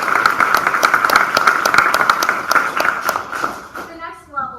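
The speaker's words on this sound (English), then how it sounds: "So please give a round of applause." Audience applause at a school board meeting, a dense, steady wash of many hands clapping together for about four seconds before tapering off into quieter room sound.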